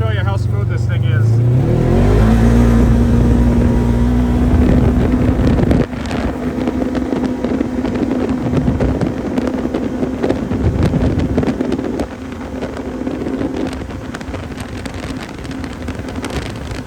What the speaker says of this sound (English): I'm going to go across furrows and go like 80 miles an hour, and I can show you how smooth this thing is